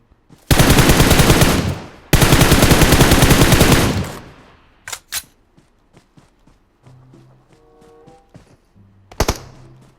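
Two long, loud bursts of automatic gunfire in PUBG Mobile, followed by a quieter stretch with footsteps, small thuds and a few scattered shots.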